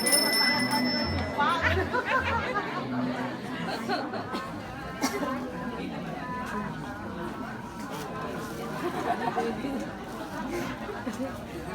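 Bells ring at a traditional Balinese wedding ceremony, heard amid a crowd's chatter and occasional chuckles at moderate distance.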